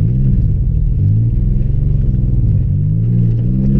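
A Pontiac Grand Prix GT spinning its tires on a hill gives a loud, steady, close engine roar with low rumble that swells and dips slightly throughout, with no talking.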